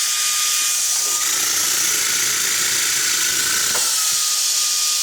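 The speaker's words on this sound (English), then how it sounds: "This is the high flow vacuum unit." A Pave Tool high flow vacuum unit for lifting hardscape pavers runs with a loud, steady broadband hiss and rushing airflow, close and continuous, with a faint tonal whine and a brief clunk near the end.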